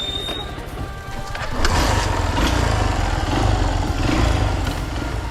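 A Hero Impulse motorcycle's engine drones steadily off-road, close and loud, rising after a quieter first second and holding a rough, continuous note to the end.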